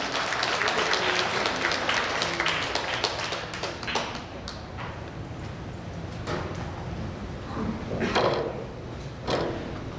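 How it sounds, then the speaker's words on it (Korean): Scattered audience applause for a union chairman candidate at an indoor meeting, moderately loud at first, then thinning into loose, irregular claps with small swells. "많은 정제 박수 부탁드립니다."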